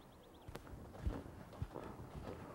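Horse hooves clip-clop faintly over a jumping grid of bounce fences in an advanced show-jumping session, a few soft thuds spaced irregularly with no talk over them.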